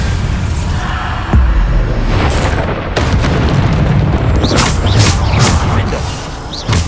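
Bombarda spell blasts in Hogwarts Legacy on PS5 during a duel, a string of loud booming bursts and crashes over a dense wash of combat effects, with voices calling out spells in the mix.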